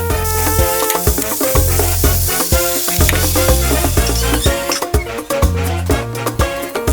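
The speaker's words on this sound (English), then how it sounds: "with the heat on high, I'm going to brown the chicken on both sides" Chicken pieces sizzle loudly in a pan over high heat for a Dominican chicken stew, a steady close crackle with occasional stirring clinks and scrapes.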